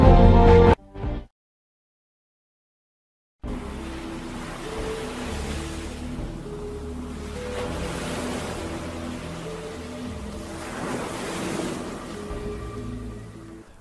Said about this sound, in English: we could not only hear water in the background swishing around, but specifically near the shore or beach side